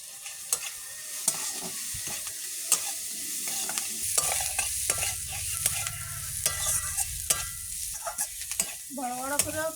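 Turmeric and spices stir-fried in a pan for a Rupchanda fish curry, with steady sizzling and frying under repeated sharp scrapes and clinks of a spatula against the pan, continuous and close throughout.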